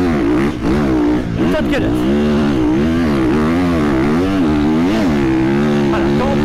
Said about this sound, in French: quand on prend de la vitesse, on n'hésite pas à mettre une vitesse de plus, en 5, même si la moto peine